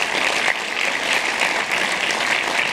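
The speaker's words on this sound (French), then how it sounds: "donc un grand merci à eux, applaudissez-les." Dense, steady applause from an audience at the Paris International Fantastic Film Festival 2019 closing ceremony, honouring the festival jury, many hands clapping evenly and continuously without pause or voices.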